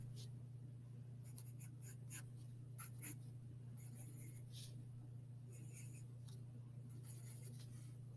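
Colored pencil lightly sketching on paper, with soft, scratchy strokes coming in short bursts over a steady low hum. The strokes are close but faint.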